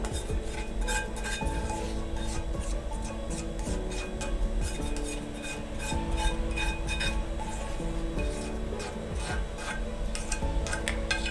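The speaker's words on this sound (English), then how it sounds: "So let's scrub it a little bit." A pan is scrubbed in a home kitchen while making fluffy pancakes, giving steady, close rubbing and rasping strokes with occasional metallic clinks, continuous throughout without talk.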